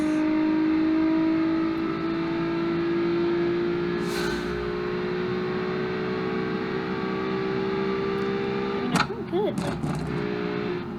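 A V6 Mazda Miata engine in a video game drones at a steady high pitch, slowly rising as it revs, with a brief burst of clattering noise near the end.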